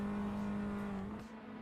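A race car engine drones in a Formula-style racing video game on the Bikernieki track, a steady, close, tonal hum with no talk that softens slightly near the end.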